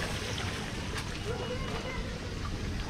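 Water rushing and splashing through a hydroponic vegetable system just after its pump is switched on, a continuous hiss of flow at moderate level.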